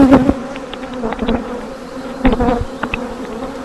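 Honeybees buzz steadily in an open beehive while frames are lifted out, a close, continuous drone with individual bees flaring louder as they pass near.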